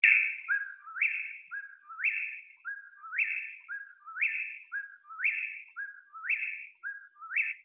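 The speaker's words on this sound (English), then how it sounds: "That's a whippoorwill." A whip-poor-will calls at dusk in Alabama, repeating its three-part whistled song about seven times in a steady rhythm. The calls are clear and close, with no other sound.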